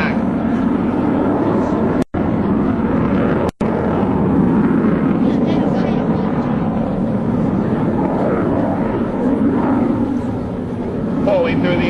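A US Navy Blue Angels jet roars continuously through a vertical climb and roll at a 2003 Rhode Island air show, a loud broad rumble under a voice narrating over loudspeakers.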